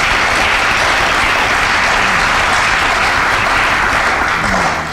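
An audience claps in a dense, loud, continuous burst of applause that holds steady from start to finish, with no talking over it.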